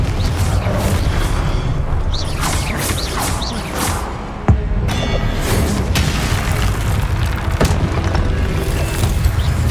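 The Confringo explosion spell is cast in the video game Hogwarts Legacy, with loud, dense booming blasts and crashing combat effects layered over continuous game sound, including one sharp burst midway.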